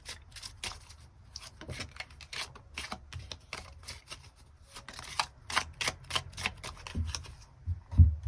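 Tarot cards being shuffled in a quiet room, a steady run of soft, rapid riffling and flicking bursts, close and alone with no talking.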